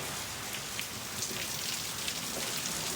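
Steady rain pours down in Las Vegas, a dense continuous hiss of drops with occasional louder splatters, no voices.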